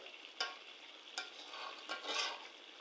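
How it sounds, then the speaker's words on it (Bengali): Tilapia fish and potatoes dry-frying in oil, stirred in the pan: a steady hiss of sizzling broken by three or four sharp scraping strokes of the spoon, close and moderately loud. "আমি এখানে মাছ আলু দিয়ে রান্না করতেছি একটু ভাজি মানে শুকনা ভাজি টাইপের"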